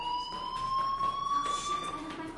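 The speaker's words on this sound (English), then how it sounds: "Hey, do you hear that fire alarm?" In a PS4 video game, a fire alarm sounds as a continuous, steady electronic tone that rises slightly in pitch throughout, with faint speech underneath.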